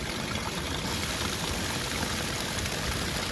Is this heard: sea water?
yes